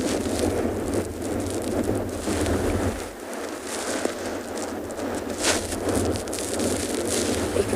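Wind blowing across an outdoor penguin beach on a cold winter day, a steady broadband roar buffeting the microphone with low gusty rumbles, continuous and without talk.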